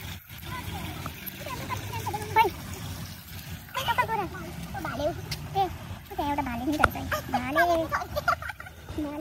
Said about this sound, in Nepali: यो भालेलाई पनि लोकल कुखुरा होला लोकल भाले होला